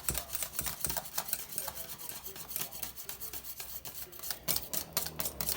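A whisk stirs thick corn cream in a pot, making fast, even scraping and rubbing strokes against the metal that continue without a break, soft and close, with no talking.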